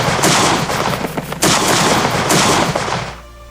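Gunfire during a large-scale hunt of geese in the reeds: a dense, loud barrage of close shots and booms running continuously for about three seconds before fading out.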